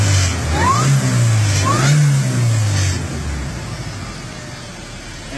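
A supercharged Toyota 2RZ engine, running with its mass airflow sensor removed, revs up twice in loud close bursts, then settles to a steady idle.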